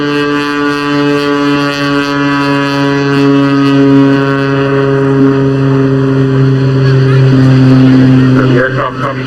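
A Jet Pitts aerobatic plane's engine roars loud and steady with a strong droning tone during an airshow display on the English Riviera, and the pitch shifts slightly near the end.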